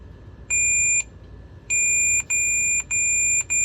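A multimeter's continuity beep sounds while probing a chassis control module pin on a Silverado's trailer brake wiring: a crisp electronic tone repeating in about five short bursts, clear and close over faint background hum.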